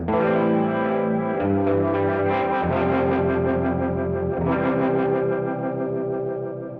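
Sustained organ chords swirl through a GFI System Synesthesia rotary speaker effect, a slow, throbbing wobble from the spinning drum rotor, with distorted, echoing tone.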